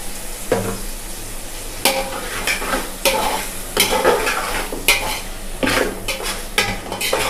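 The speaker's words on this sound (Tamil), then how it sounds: "அது வந்து நல்லா மர்ஜ் ஆகிற வரைக்கும் கிண்டிட்டு" Mushroom biryani masala with green chillies, coriander and mint being stirred in a frying pan: a spoon scrapes and clinks against the pan in repeated strokes over a soft, steady sizzle, close and without talk.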